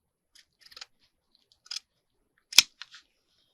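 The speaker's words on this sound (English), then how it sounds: "But I fold it up and then I cut it on a diagonal like this." Scissors snip through folded packaging on a diagonal, giving a few small, quiet clicks and then one sharper, louder cut close by, with silence in between.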